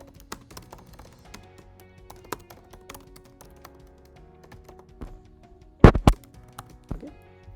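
Code being typed on a computer keyboard, a steady run of light key taps with a few louder, harder strikes near the end.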